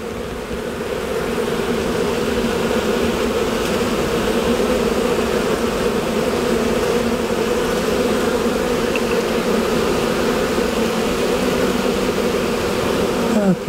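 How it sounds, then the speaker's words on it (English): Dense, steady buzzing of many honey bees from an opened hive that may have lost its queen, close and continuous with no one speaking over it. "here's a lot of bees, so she didn't swarm"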